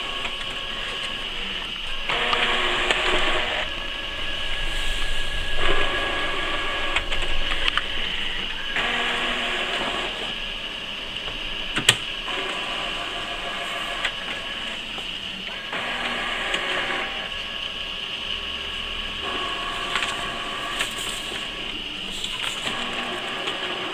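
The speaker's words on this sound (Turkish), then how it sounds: "Bu yazıcıda ayrıca zarfa baskı alabilir, fotokopi kağıdı rahatlıkla çıktı alabilirsiniz." An HP Pro X476 ink tank printer with 4-liter ink tanks runs a print job, its mechanism whirring in repeated passes of a few seconds each, with a sharp click about halfway through.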